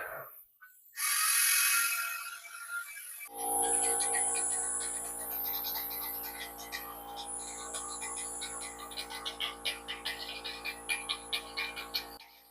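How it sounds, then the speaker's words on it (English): A steady compressor hum runs throughout, with rapid irregular sputtering pops building toward the end as a Vevor 20-gallon air-pressured oil drain empties cold, slow oil. "It's hard to hear over the compressor, but it started sputtering."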